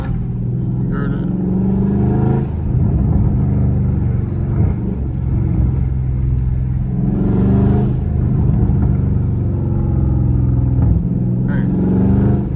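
A Dodge Charger Scat Pack V8 held near 3,000 RPM, a loud close deep rumbling drone that swells in a few revs across the stretch, with faint voices underneath.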